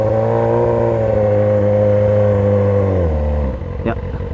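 A Yamaha motorcycle engine revs loudly nearby, holding a high whine before dropping back down to a rough idle.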